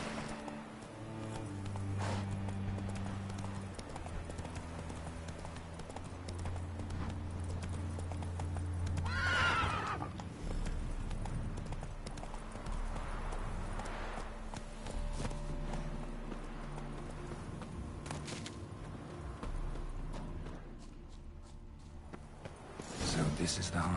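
Roach, a horse in The Witcher 3, whinnies sharply near the middle, with steady hoof clip-clop running through the whole stretch over game music and ambience, and speech comes in at points.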